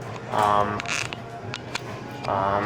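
Thyssenkrupp elevator door equipment on a Synergy machine-room-less traction elevator operates at a football facility, giving off creaking, whirring mechanical motion with clicks and a rattling hum, close up, with a voice faintly present.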